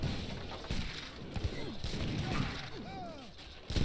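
Cannons fire in a battle by a river in the video game Age of Empires 3, with several booming shots and crashing impacts among soldiers, fairly faint and scattered over a few seconds.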